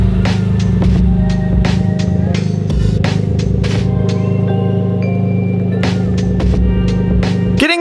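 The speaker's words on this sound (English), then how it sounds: "Getting the Corolla on the lift" A Toyota GR Corolla engine idles and creeps forward onto a lift, its loud, steady drone running throughout, with clattering knocks from the shop along the way and a sharp squeal near the end.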